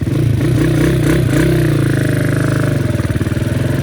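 A motorcycle engine held at about 2000 rpm in first gear during break-in, a loud, close, steady pulsing thrum with slight rises in pitch and a throbbing, lumpy rhythm, no voices.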